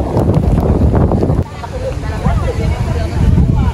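Gusty wind roars against the microphone in Tagaytay City among pine trees, a heavy rumble that eases briefly midway before building again, with faint voices underneath.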